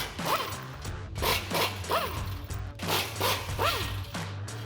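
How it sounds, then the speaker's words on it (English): A 15mm socket ratchets out skid plate bolts on a Ford F-150, giving five rapid clicking bursts at a steady rhythm, close and fairly loud over a low engine-like drone. "I'm just gonna remove these 4 15mm bolts holding in the skid plate with a 15mm socket"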